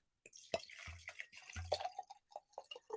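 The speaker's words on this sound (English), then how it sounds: "Just going to pour the rest of this in." Liquor is poured from a bottle into a jar of vanilla beans, close and quiet, with uneven gurgling splashes and drips in short bursts and no talk.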